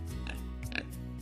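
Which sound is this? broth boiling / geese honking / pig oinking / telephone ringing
pig oinking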